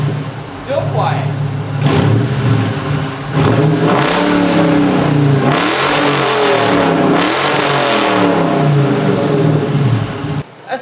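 Dodge Challenger R/T V8 with the rear mufflers removed, a cold start followed by a series of loud throaty revs that rise and fall over about ten seconds, with brief speech at the start.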